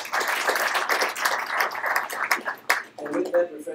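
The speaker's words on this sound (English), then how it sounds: "A big round of applause, ladies and gentlemen." An audience at a business analyst briefing breaks into applause, a dense close wash of clapping that fades near the end as a voice begins speaking.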